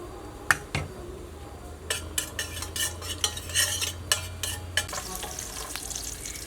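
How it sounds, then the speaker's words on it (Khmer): Garlic and ginger sizzle steadily in hot oil while a utensil stirs and scrapes the pan in a run of sharp, irregular clicks, close and fairly quiet, with no talking. "ខ្ញុំចាប់ដើមដាក់ប្រេងឆាដើម្បីលីងខ្ទឹមសជាមួយនឹងខ្ញីសិន"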